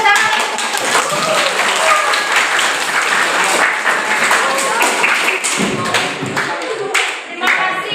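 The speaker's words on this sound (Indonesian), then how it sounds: "Beri tepuk tangan" A university classroom audience claps loudly and densely after a student group presentation, with voices mixed into the applause until it thins near the end.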